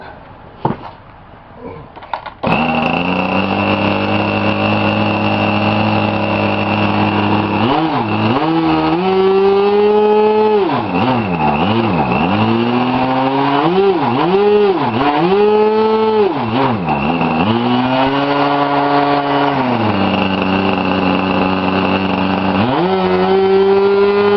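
An Italian Como 40 RC model engine runs loud and close after a few brief clicks, holding a buzzing high-pitched drone that repeatedly rises and dips as the throttle is worked.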